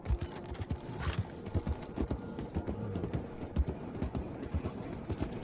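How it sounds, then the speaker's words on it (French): Horse hooves clip-clop steadily in the Red Dead Redemption 2 video game, a rhythmic, fairly close series of hoof strikes over a continuous background bed, with a horse's snort or whinny showing up briefly. "Un cheval dans une usine de lasagne."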